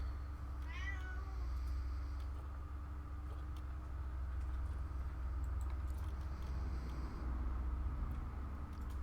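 A cat in a zoo-building video game lets out a single clear, close meow near the start. Faint game background noise continues underneath for the rest, and nobody talks.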